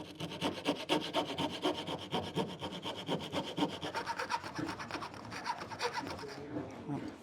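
A coping saw cuts through wooden window trim with fast, rhythmic back-and-forth rasping strokes, close and steady, easing slightly toward the end.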